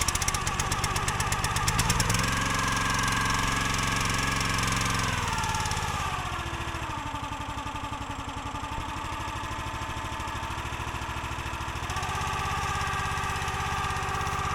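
A County Line log splitter's small gas engine catches and runs, first a fast, loud chattering pulse, then settling into a steady, throbbing idle that shifts pitch slightly as it runs up close.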